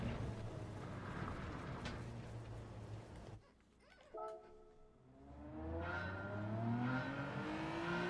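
Loud race car engine roar in Gran Turismo 7, with revving pitch sweeps, briefly dropping to a quieter idle before climbing again through rising gears.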